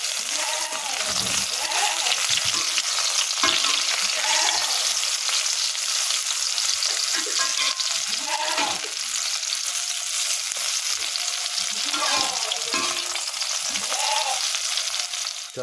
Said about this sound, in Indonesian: Sambalnya digoreng kabeh